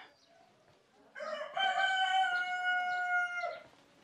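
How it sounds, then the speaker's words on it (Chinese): A rooster crows once in an ancient village in Hunan, a loud, drawn-out call ringing out clearly over a quiet background. "这个公鸡的叫声一直都有，"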